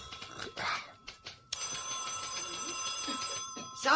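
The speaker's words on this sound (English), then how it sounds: "Somebody take that phone." A telephone bell starts ringing abruptly partway through, a loud, sustained metallic ring after a few brief knocks and rustles, then continues steadily in an office setting.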